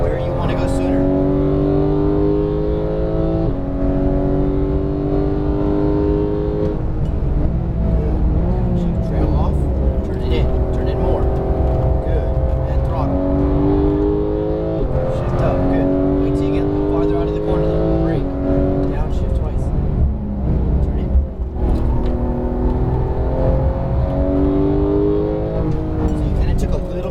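A Porsche 911 GT3 (991) flat-six engine revs hard on a race track, rising repeatedly through the gears in loud climbing sweeps with brief dips at each shift, while a voice talks over it throughout.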